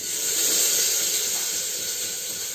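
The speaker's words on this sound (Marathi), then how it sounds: "त्यामध्ये मी हा एक कांदा टाकतोय चिरलेला" Chopped onion sizzling in hot oil in a pressure cooker, a loud, steady hiss that stays even throughout and fills the whole clip.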